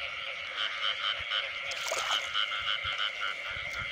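Frogs croak in a field at night, a dense, steady chorus of rhythmic calls close by, with a brief rustle partway through and no voices.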